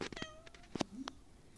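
A pregnant cat gives a few short, close meows, one rising and falling, with faint movement sounds around them.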